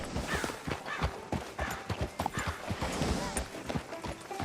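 Horse hooves clip-clop in a quick, uneven rhythm on hard ground in Red Dead Redemption 2, fairly close, with voices faintly mixed in underneath.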